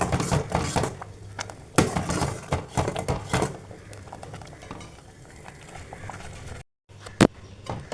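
A spoon stirs thickening milk custard in a pot for kunafa pudding, scraping and clinking at close range in uneven bursts. Softer bubbling fills the gaps, and a brief break in sound comes near the end.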